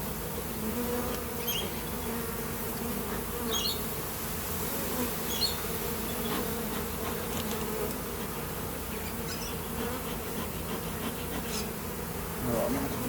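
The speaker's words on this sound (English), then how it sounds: "These are all just little bees on here, so I'm not worried about them." Honey bees buzz continuously around an open Flow Hive during a hive inspection, a dense, steady hum of many insects with occasional louder passes close by.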